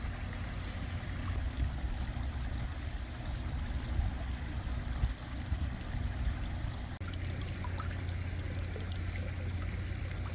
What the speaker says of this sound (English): Look at all these great water features.